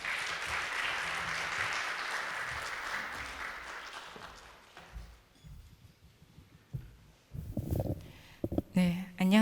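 Audience applause as a speaker comes up to open a university innovation-support program results-sharing event, a dense sustained clapping that fades out after about five seconds, followed by scattered handling noises and brief talk.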